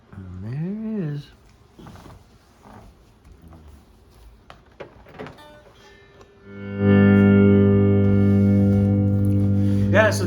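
A $69 budget sticker electric guitar played on the neck pickup through effects units, sliding bent notes early, scattered plucks, then a loud sustained distorted chord ringing out for several seconds, with some talk around it.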